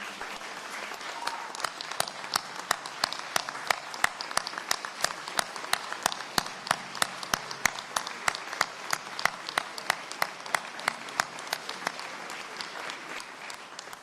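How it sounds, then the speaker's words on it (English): Sustained applause from a room full of people giving a standing ovation to first responders honored for their service, dense steady clapping with sharp individual claps running throughout at an even loudness. "everybody else in the room should give them a standing ovation"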